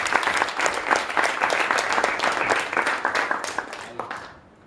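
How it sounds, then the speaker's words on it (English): A room audience claps for a speaker at a Toastmasters-style session, brisk and fairly close, holding steady before thinning out and fading near the end. "So can we have a round of applause for him?"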